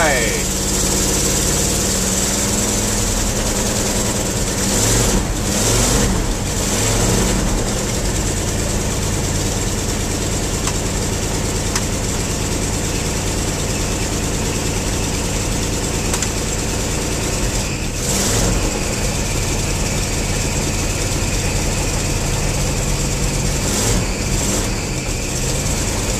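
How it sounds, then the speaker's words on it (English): A 1974 Ford F250 engine idles steadily after a cold start, a continuous close rumble with a high belt squeal riding on top and a few brief louder bumps, running alone without talk. "Got some belt squealing."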